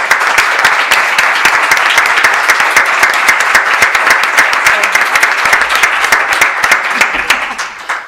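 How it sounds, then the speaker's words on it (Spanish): Sustained applause from an audience at a forum honouring women of the sea, dense steady clapping filling the room from start to finish before tapering off at the end. "Les damos un fuerte aplauso a las protagonistas."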